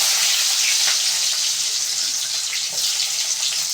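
Chopped large onions sizzle in hot oil with fenugreek for a trevally fish curry, a dense close crackling fry with light stirring scrapes throughout and no voices.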